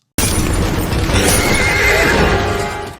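A horse charging forward gives a loud, close neigh over hooves pounding the ground. The sound starts abruptly and fills about three seconds before fading at the end.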